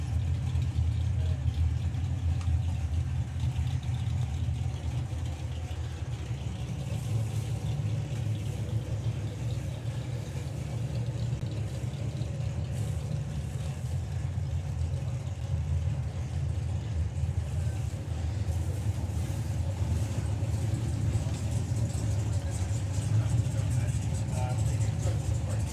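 Drag racing cars, a dragster in a team entry and a second car, idle in pre-stage at the Summer Nationals and creep forward, a steady loud low engine rumble held throughout with crowd and track noise over it.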